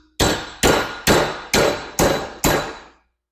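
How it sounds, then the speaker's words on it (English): A Walmart Hyper Tough 10-inch adjustable wrench serves as a hammer, striking six sharp metallic clangs at an even rhythm, each ringing briefly before the next, loud and close with no voices. "Walmart 10-inch Hyper Tough hammer test."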